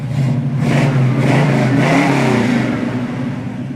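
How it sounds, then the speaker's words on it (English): 1967 Pontiac Firebird convertible V8 with dual exhaust revving up close, a rising and falling engine roar over a few seconds. "Great sound and dual exhaust, nice drivetrain, just beautiful car all the way around."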